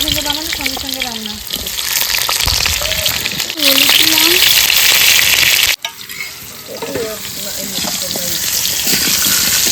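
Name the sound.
meat frying in a pan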